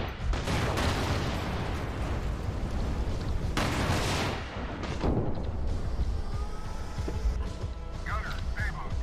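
Tank cannon fire in the video game GHPC: loud, booming shots with crashing impacts, one prominent blast partway through, set among continuous battle noise and a man giving gunner commands.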